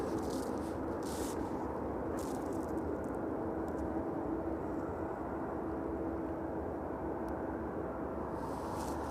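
Steady, broad roar of a Jet2 airliner at East Midlands Airport in the evening, heard from a distance as a continuous engine rumble without talk.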